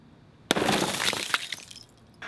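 Car window glass bought from a junkyard, struck by a small blade hidden in a flashlight, gives a sharp loud crack and then a long crunching shatter of falling pieces that fades over about two seconds, with a small clatter at the end.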